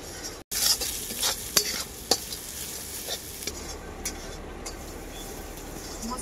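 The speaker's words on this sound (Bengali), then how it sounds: "মশলাটাকে আমি খুব ভালো করে কষিয়ে নেব।" A spice paste of cumin, red chilli and turmeric is fried and stirred in a pan for a country chicken curry, with a steady close sizzle and sharp intermittent spatula scrapes that thin out toward the end.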